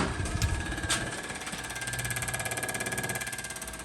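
Electric fuel pump switched on during a Chevy small block 406 build, giving a steady buzzing whir with a fast, even pulsing rhythm that runs throughout, close and moderately loud, with no talk.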